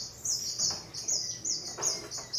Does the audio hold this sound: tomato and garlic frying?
no